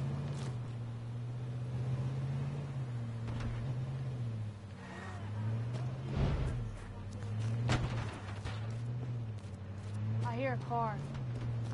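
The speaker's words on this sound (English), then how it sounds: "I hear a car." Car engine in a video game, a steady low drone running throughout, rising in pitch near the end, with voices talking over it.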